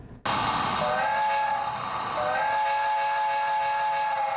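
A model train steam whistle from a replica of the old Louisbourg to Glace Bay railway route in Cape Breton, sounding one loud, sustained hissing blast that begins abruptly and holds steady to the end with no speech.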